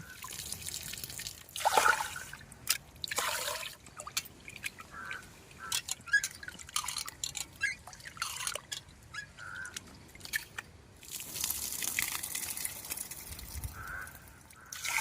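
New rice being washed by hand in water in a kitchen, with intermittent trickling and dripping splashes that come and go, close and moderately quiet, and a faint crow call in the background.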